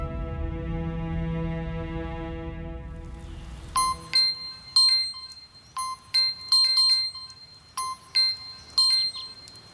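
After a sustained tonal drone, a phone rings with repeated bursts of bright electronic bell-like trills in a regular rhythm, fairly loud and close, with no talking over it.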